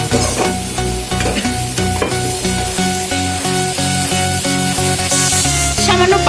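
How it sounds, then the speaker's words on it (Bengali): Egg curry masala sizzles loudly in a pan while being slowly sautéed, and a spatula scrapes and stirs through it in a steady rhythm, up close. "আস্তে আস্তে করে কষানো হচ্ছে।"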